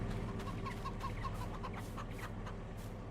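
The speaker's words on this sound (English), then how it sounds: "let's check on the chickens." Soft, repeated clucking of several chickens in the video game Farming Simulator 22, over a steady low hum, gentle and continuous.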